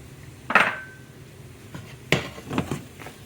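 A utensil scrapes and clinks against a pan while spinach is stirred into a crab and shrimp cake mixture, a few sharp metallic knocks scattered over quiet moments.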